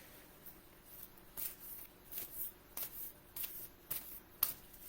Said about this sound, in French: OK, on va piger une carte, la carte du soir